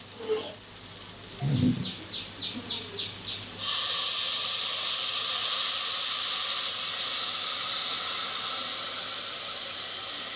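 A few quiet clicks and faint chirps give way to a sudden loud, steady hiss of steam as water is poured onto fried daliya in a hot pan. The hiss holds strong for several seconds.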